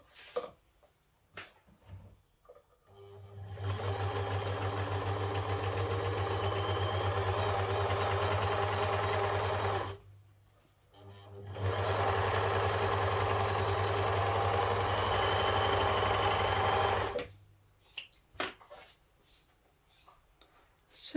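An old Huskylock overlocker serger, once seized and grimy and now restored, runs in two sustained bursts of steady mechanical whirring and stitching with a strong low hum, separated by a brief pause, with quiet clicks before and after.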